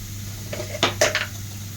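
Spoon scraping and tapping against a pan while stirring coriander, chili and garam masala powders over low heat for beef curry, a few quiet clinks over a faint steady hum.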